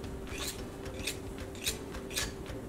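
Tart crust dough edges being trimmed, giving four soft, evenly spaced cutting swipes at close range over a steady low background hum, with no talking.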